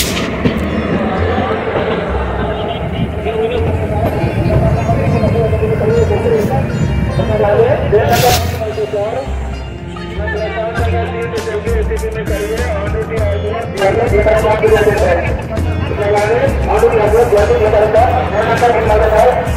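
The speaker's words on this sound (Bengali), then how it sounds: "বিশাল ভিড় মহাকুম্ভ ভাই" A large, dense crowd at Prayag junction railway station during the Maha Kumbh 2025 in Prayagraj, with a continuous loud hubbub of many voices, bumps and thuds, and nearby talk throughout.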